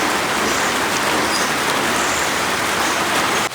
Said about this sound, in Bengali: এই দেখো বাইরে কত সুন্দর বৃষ্টি হইতেছে